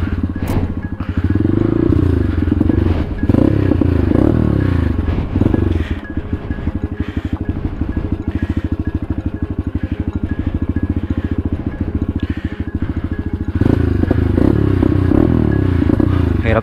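A motorcycle labors loudly up a steep, remote mountain route between Baler and Dingalan in Aurora, its engine straining continuously with clattering and scraping throughout, close and dominant.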